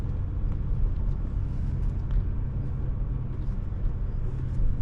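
A 2024 Toyota Tacoma TRD Off Road crawls over desert obstacles, its engine a steady low rumble with road and tire noise sustained throughout, close and fairly loud, with no talk.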